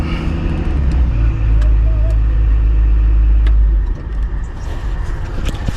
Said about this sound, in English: There's a little ride in an excavator.